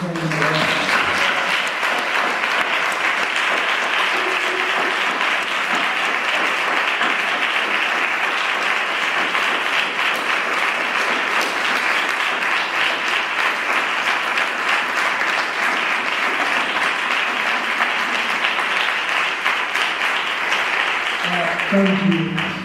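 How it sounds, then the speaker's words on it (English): A Harlem town hall audience on dance artistry and advocacy rises in a standing ovation, with dense, steady applause filling the room for over twenty seconds before it tapers off. "So let's, 1, 2, 3, let's give him a standing ovation."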